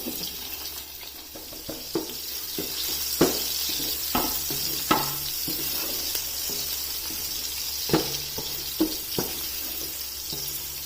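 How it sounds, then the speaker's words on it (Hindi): Finely chopped onion fries in oil with cardamom, black pepper and cloves for pulao, giving a steady hiss broken by scattered clinks and scrapes of stirring throughout. "अब इस प्याज को इसमें लाइट गोल्डन ब्राउन कलर होने तक ऑयल में फ्राई कर लेना है।"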